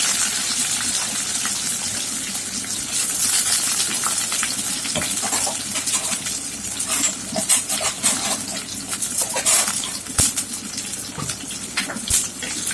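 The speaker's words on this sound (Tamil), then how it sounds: "இப்போ ஒரு சின்ன வெங்காயமும் ஒரு தக்காளி கருவேப்பில போட்டேன்" Shallot, tomato and curry leaves sizzle in hot oil after mustard seeds have popped, giving a continuous close frying hiss with scattered crackles and spits throughout.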